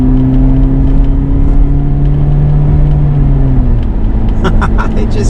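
Engine of a 1990 Toyota Hiace van mounted beneath the cabin floor, a steady droning hum with low tonal whine while driving, loud and continuous, with a rising higher-pitched rattle near the end.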